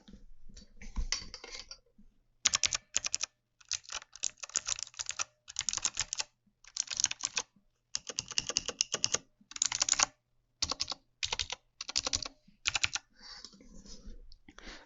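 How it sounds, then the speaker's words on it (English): Hard, forceful taps on an E-Yooso Z-88 mechanical gaming keyboard come in quick bursts of sharp clacks separated by short pauses, close and crisp, with no talking. "let's go ahead and do some hard taps now so you can get an idea of that"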